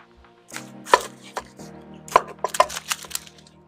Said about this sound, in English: I'm going to slice onion for topping.